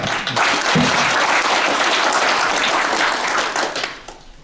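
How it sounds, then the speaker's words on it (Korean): Loud, dense applause from attendees at a Korean clan association general meeting fills the room right away, holds steady for several seconds and then tapers off near the end. "우리 다 같이 박수로서 축하합시다."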